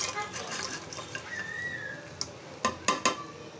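A spoon stirs fried nuts, raisins and chopped candied fruit in a pan of melted sugar for Bangladeshi zorda. Soft scraping gives way to a few sharp metallic clinks near the end, over a quiet kitchen background.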